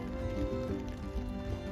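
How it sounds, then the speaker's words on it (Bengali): A trawler boat's engine heard softly as a low, steady droning rumble with a humming tone, continuous over the short stretch and without clear speech. "ট্রলারের মৃদু শব্দ,"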